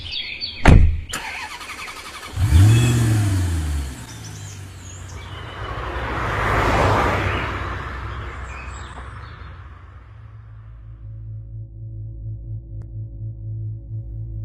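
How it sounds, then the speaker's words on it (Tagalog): A car starts up with a sharp mechanical burst, then its engine rises and settles into a steady low hum as it drives along a quiet road, with a passing whoosh in the middle and no talking. "Tahimik na binabagtas ng kanilang sasakyan ang daan pauwi sa probinsya."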